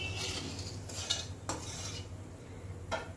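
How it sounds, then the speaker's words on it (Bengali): A spoon stirs whole tempering spices and half a spoon of sugar in a pan over a very low gas flame, making a few distinct scraping strokes against the metal over a faint background sizzle, with no talking. "ফোড়নটা একটুখানি নেড়ে নেব।"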